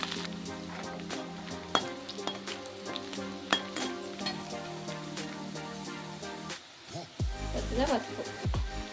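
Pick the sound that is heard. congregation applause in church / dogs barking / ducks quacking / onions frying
onions frying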